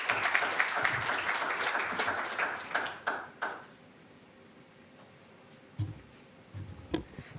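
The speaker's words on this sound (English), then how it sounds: "Let's please give him a round of applause." An audience at a pre-budget economic discussion in Namibia breaks into a dense burst of applause that fades after a few seconds, leaving a quiet room with a couple of faint stray sounds.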